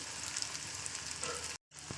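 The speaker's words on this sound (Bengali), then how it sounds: "পেঁয়াজটা থেকে ভাজা ভাজা হচ্ছে" Onion sizzles and crackles in hot oil in a pan, a steady close hiss with a brief break near the end. No one speaks.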